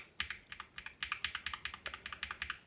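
Typing on an Akko Fun60 Pro mechanical keyboard with lubricated switches, a quick, close run of soft clacking keystrokes in an uneven rhythm, about two dozen presses with no voices.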